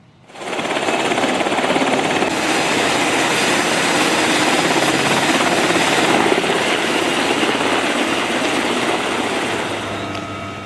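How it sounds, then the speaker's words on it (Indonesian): Military helicopters lift off from the deck of the USS Tripoli, a loud, dense rotor-and-turbine roar that rises sharply and then holds steady and close for about ten seconds, with no voices. "Sejumlah helikopter lepas landas dari USS Tripoli yang ditempatkan di CENTCOM."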